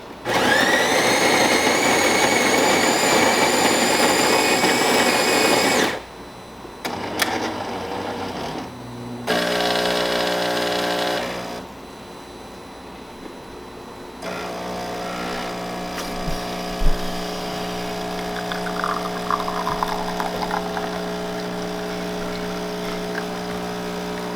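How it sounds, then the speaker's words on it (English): A Jura Impressa E8 espresso machine, freshly serviced, whirs and grinds loudly, then pumps and hums in stages with clicks and gurgles as the shot is pulled, no talking. "we're testing this Jura Impreza E8 and let's go ahead and pull a shot"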